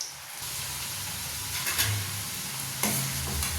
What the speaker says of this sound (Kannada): ನೋಡಿ ಈ ರೀತಿ ಒಂದೊಂದಾಗಿ ಎಣ್ಣೆಯಲ್ಲಿ ಹಾಕಿ